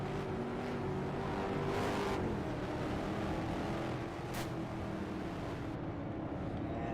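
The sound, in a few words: race cars driving in a heat race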